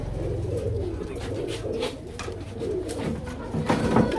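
Pigeons coo in low, throaty rolling calls, several overlapping close by, with a faint background murmur.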